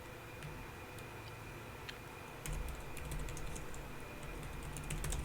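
Quiet, irregular tapping of keys on a reMarkable 2 tablet keyboard, soft clicks scattered over a faint room background.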